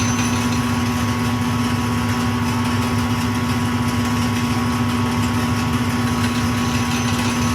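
A Highland Park SM1 shaping machine runs steadily with a constant motor hum and a strong sustained tone, loud and unbroken throughout without any voices.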